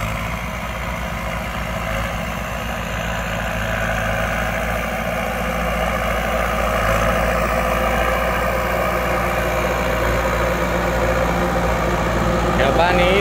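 A Kubota M6240 tractor engine runs steadily in a rice field during soil-pushing work, a loud continuous idling rumble that holds even for the whole stretch with no breaks.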